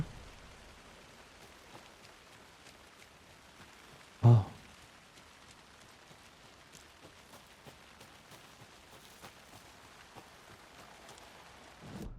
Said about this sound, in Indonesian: Coba denger suara hujan doang.